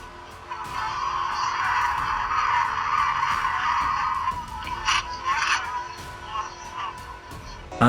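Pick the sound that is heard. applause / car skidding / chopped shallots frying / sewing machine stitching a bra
car skidding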